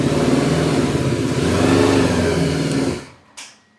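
A Benda DarkFlag 500 V4 motorcycle revs through its exhaust, a loud close throaty roar held for about three seconds before cutting off, followed by a short faint blip.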